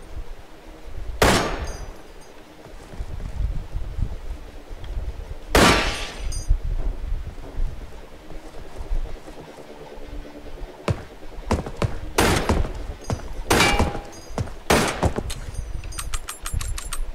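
Gunfire in the video game Receiver: a few sharp, loud shots with gaps between them, then a quicker run of four or five reports near the end, all over a steady background bed of game ambience and music.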